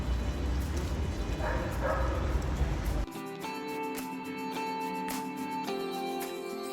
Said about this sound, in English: Our pack of wild dogs on the tour with us, barking at everybody.